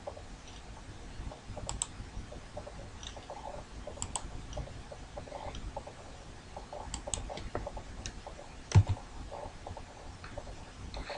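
Arrow keys on a computer keyboard pressed while steering Pacman in a 2D animation, heard as sparse, light clicks and taps at irregular intervals, close and fairly quiet, with one sharper knock near the end and no talking.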